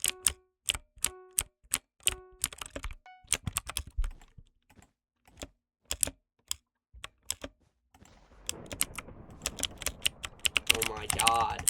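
A mechanical keyboard with blue switches clacks in sharp, clicky bursts of typing, close and crisp, with pauses between runs before a denser, faster flurry of keystrokes near the end.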